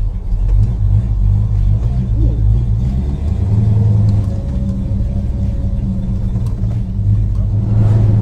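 A 1969 Dodge Charger R/T engine rumbles steadily at close range, with a low throaty drone that swells slightly as the car pulls away and gets moving.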